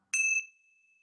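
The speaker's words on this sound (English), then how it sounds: "we ring these bells like the great bell chant" A single bell is struck once in a ceremonial chant circle, giving a bright, clear ding whose ringing tone lingers and fades slowly into quiet, with no voices.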